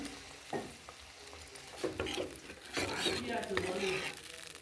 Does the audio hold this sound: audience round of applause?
no